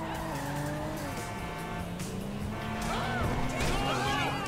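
In Grand Theft Auto V, a car engine drones steadily as the vehicle corners down a high street, with tires squealing and skidding loudly throughout while voices talk over it.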